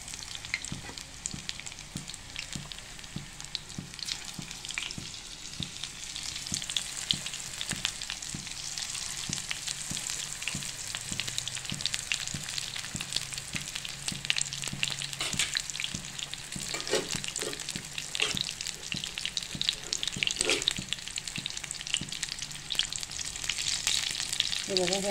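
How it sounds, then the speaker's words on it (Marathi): Paneer pakoras deep-fry in hot oil over a high flame, giving a dense, continuous bubbling sizzle that stays loud and close for the whole stretch with no voices. "हे बघा, हे आता असं आपल्याला पकोडे तळून घ्यायचे।"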